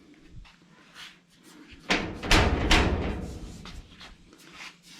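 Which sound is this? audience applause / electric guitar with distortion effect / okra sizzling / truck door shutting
truck door shutting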